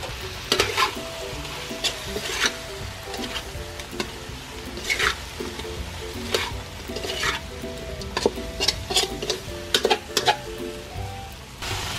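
Okra stir-fried with fried garlic sizzles steadily in a pan, broken by repeated scraping and clattering strokes of a spatula stirring through the food, close and fairly loud.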